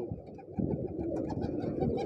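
A pigeon in a loft in Ahmedabad gives low, soft cooing that throbs steadily and close by, with no talking.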